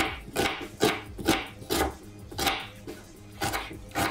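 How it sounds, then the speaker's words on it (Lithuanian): A knife chops an onion on a cutting board, a series of quick, sharp, uneven knocks at close range, fairly quiet, with no talking. "Pirmiausiai supjaustam svogūną"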